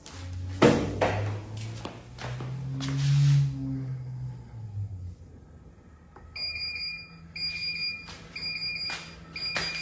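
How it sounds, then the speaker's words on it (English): The water chiller of an AccTek AKQ-1500 1500W laser rust remover sounds its no-water alarm, a repeating electronic beep in regular pulses that follows a few clunks and a low hum. "I'm getting an alarm coming on because there's no water in it"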